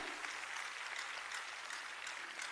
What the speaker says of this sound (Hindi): एक बार जोरदार तालियों के साथ स्वागत।